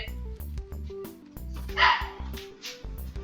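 A dog barks in a Minecraft game world during redstone building, repeated short game-style barks and yips spread across a few seconds alongside steady synthetic game tones, with no talking.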